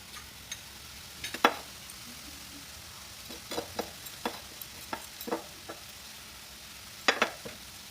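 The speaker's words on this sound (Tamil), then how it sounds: "இது நல்லா கொஞ்சம் எண்ணெயிலே சூப்பராக குக் ஆகிடுச்சுங்க" Ginger frying in oil in a heavy-bottomed pan for a ginger and raw mango thokku, a soft sizzle broken by scattered scraping stirs, with a small cluster of clinks near the end.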